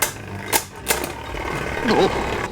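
Nemesis and Screw Trident spinning tops, one fitted with an Ultimate driver, launched and clashing in a battle, giving several sharp impact clicks and a steady whirring scrape over a busy noisy background.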